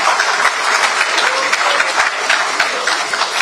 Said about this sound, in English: A round of applause for His Excellency Distinguished Senator David Mark